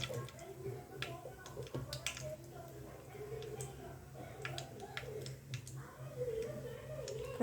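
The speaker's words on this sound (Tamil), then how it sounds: "கடுகு பொரியட்டும்." Mustard seeds splutter in hot oil in a pan, giving a quiet run of sharp, scattered pops and crackles at irregular intervals, with a voice speaking softly underneath.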